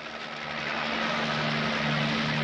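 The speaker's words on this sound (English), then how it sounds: "That's a helicopter." A helicopter flies nearby, its engine and rotor making a steady droning roar that grows slightly louder over a couple of seconds, with no talk over it.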